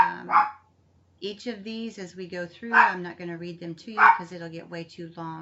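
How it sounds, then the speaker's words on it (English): A small dog gives a couple of sharp yips at the start, then keeps barking faintly beneath a person who talks steadily throughout. "And I need to apologize for my dog barking."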